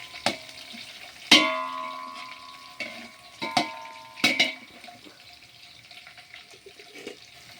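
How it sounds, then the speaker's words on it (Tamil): Garlic and cumin fry lightly in a pan, a quiet sizzle broken by a few sharp clanks and taps from a utensil, with faint running water in the background. "அந்த ஜீரகமும் பூண்டும் சேர்ந்து ஃப்ரை ஆகணும்."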